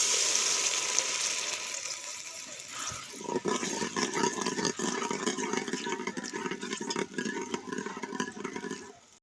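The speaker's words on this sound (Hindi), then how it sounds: "अब इसमें हम थोड़ा सा पानी डालेंगे इनको गलाने के लिए" Water is poured into a pan of lightly browned onions, a loud hiss and sizzle that turns into a steady bubbling simmer, with a low hum underneath.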